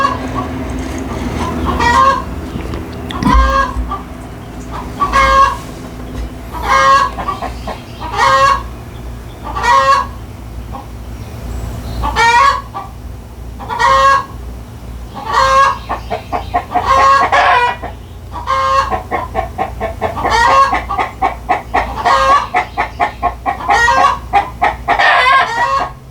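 Backyard chickens call in a steady repeating rhythm: a hen's loud egg-laying cackle recurs every second or so for about twenty-five seconds, quickening toward the end, while a rooster and other clucking sound beneath.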